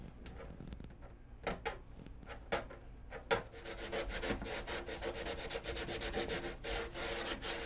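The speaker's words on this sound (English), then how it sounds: "When you use a scraper on an area like this, especially in a bend, you can get kind of this chatter on there" Hand scraper working a curved surface during prep: a few isolated scrapes, then a quick run of rhythmic rasping strokes, close and fairly faint, with no talk.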